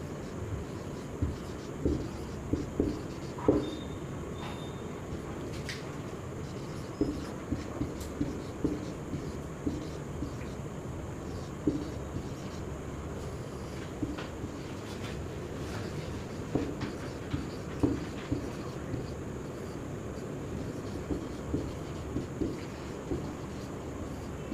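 Scratchy strokes of writing on a board during a Sanskrit lesson, a steady run of small, quiet taps and scrapes repeating every second or so, with no one talking.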